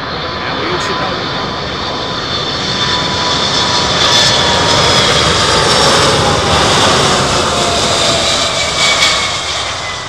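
Jet engines of a Boeing 747 freighter roar at Miami International Airport, a loud, sustained broadband rumble that swells slightly and holds steady, with voices talking beneath it.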